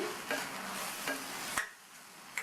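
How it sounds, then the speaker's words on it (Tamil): A spatula scrapes and stirs tomatoes and mint leaves in a pan with a quiet sizzle, a few sharp scraping strokes, close and fairly soft. "புதினா இலைகளை சேர்த்து நல்லா ஒரு பெரட்டி விட்டுட்டு"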